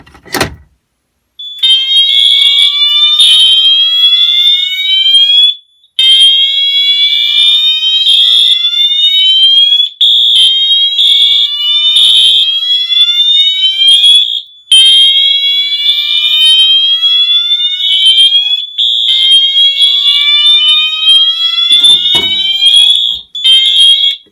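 A very loud fire alarm horn blares continuously with a harsh, buzzing tone during a fire alarm system test, briefly cutting out a few times before resuming.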